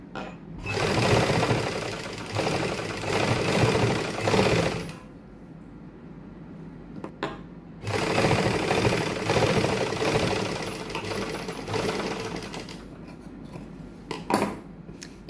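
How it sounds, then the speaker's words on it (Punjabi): A sewing machine stitches lace along a flower outline on a plain sleeve, running in steady fast bursts of close mechanical rattle separated by brief pauses while the fabric is repositioned, with no talking. "ਤੇ ਆਪਾਂ ਫੁੱਲ ਦੇ ਨਾਲ ਨਾਲ ਸਲਾਈ ਲਾਵਾਂਗੇ"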